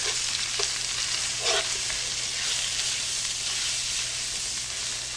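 Flour-coated onions sizzle loudly in a skillet, a constant close frying hiss with a few brief scraping stirs of a utensil against the pan, with no talking.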